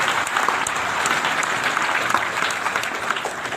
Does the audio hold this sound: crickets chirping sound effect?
no